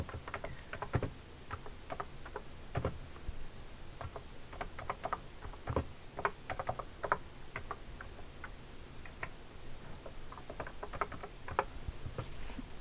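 Keys tapped on a computer keyboard while entering a text prompt, light close clicks in irregular bursts and pauses with no voices.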